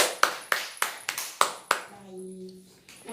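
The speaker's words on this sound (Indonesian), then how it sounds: "Boleh beri tepuk tangan untuk Fahira dan Balkis." A handful of sharp, separate claps ring out in a classroom of children during a lesson, spaced about a third of a second apart, then stop as a voice follows.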